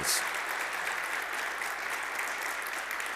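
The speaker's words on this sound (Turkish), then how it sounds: "Sizlerden eden bir Hitit için kuvvetli bir alkış rica edeyim efendim" An audience claps steadily at a gong ceremony for Hitit Bilgisayar Hizmetleri, the dense applause holding at an even level throughout without a break.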